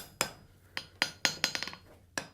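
A hammer strikes hot steel on an anvil, driving it into a corner during a forge weld: about ten sharp metallic blows, single hits and then a quick cluster, each with a short ringing decay, close and alone.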